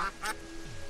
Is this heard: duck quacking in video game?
yes